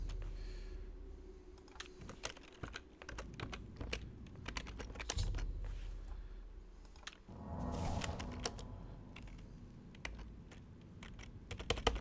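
Computer keyboard typing during a session of The Elder Scrolls IV: Oblivion, with bursts of quick, irregular key clicks, fairly close and moderately loud, broken by short pauses and rustling handling sounds.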